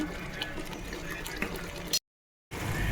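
Water is poured steadily into a pan of fish curry, a continuous splashing rush that stops abruptly and then resumes briefly.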